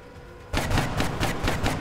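Rapid bursts of gunfire from the XCOM: Long War strategy game kick in suddenly after a quiet stretch, repeating in loud, rhythmic volleys that fill the rest of the moment.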